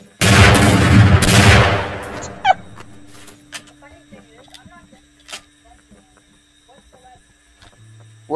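Shotgun blasts ring out in a wild west video game: a dense burst of heavy gunfire, then a single sharp shot, followed by scattered fainter cracks and clicks over a quiet, humming background.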